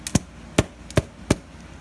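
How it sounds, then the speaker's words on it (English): Four sharp, close knocks ring out at uneven intervals as a utensil scrapes seeds from inside a bell pepper, each one a quick tap or thud against the hollow pepper. "the easiest way to get the seeds out is just go like this. And scrape them out on the inside, like that."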